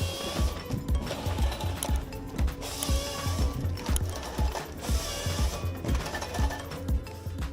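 A JAK 300B tree cutting machine working in a Finnish forest gives a steady mechanical clatter, rhythmic knocking and ratcheting beats repeating about twice a second, with bursts of hissing noise, close and fairly loud.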